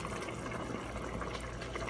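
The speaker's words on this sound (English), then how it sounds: "we're going to add our fish sauce." Fish sauce pours into a thickened Thai ladna sauce, giving a steady liquid trickle over faint bubbling in the pan for about two seconds, with no talk.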